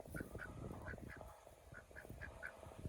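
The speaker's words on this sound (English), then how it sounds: "There's the ducks." Ducks quack in a farmyard setting, a series of short, evenly spaced calls at moderate distance over a noisy outdoor background.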